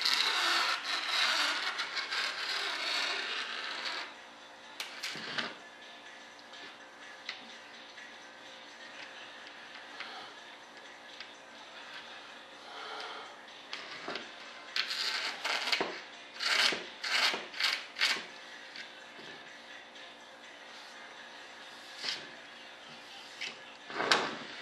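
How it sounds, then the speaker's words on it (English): A razor blade held upright is scraped across the surface of a model F-105 Thunderchief RC jet, with a long steady rasp at first, then a series of short close scraping strokes. "Scrape her down."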